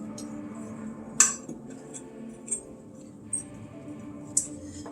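Flour being mixed with freshly ground black pepper for chicken fried steak, with a few faint, sparse clinks of a utensil against a bowl over quiet background hum.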